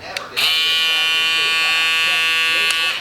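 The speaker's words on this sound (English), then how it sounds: "So this is the older Babyliss shavers." An older Babyliss electric shaver switches on with a click and runs as a steady, bright, high-pitched buzz for about two and a half seconds, close up, then clicks off.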